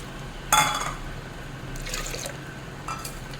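Water is poured into a pressure cooker holding lentils and banana stem, a few short splashing bursts and trickles, quiet and close, with pauses between pours.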